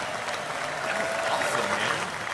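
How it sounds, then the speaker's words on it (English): A studio audience claps warmly and steadily, a dense, even burst of applause close to the microphone. "Big round of applause for him."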